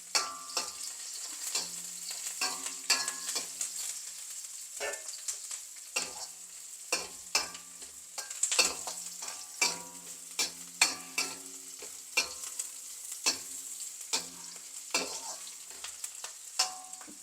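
Curry leaves frying in hot oil in a pan of bitter gourd fry: a soft continuous sizzle is broken by repeated sharp scraping stirs of a spoon against the pan at an uneven pace.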